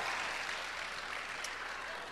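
Enthusiastic applause from a church congregation celebrating a couple's 33 years of marriage, a steady dense wash of clapping that holds at an even, fairly loud level throughout.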